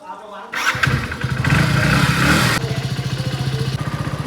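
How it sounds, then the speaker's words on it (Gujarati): A very old motorcycle engine kicks over after a short quiet moment, catching with a rough surge that revs up, then settling into a loud, rapid, even putter up close. "બહુ જૂનું બાઈક"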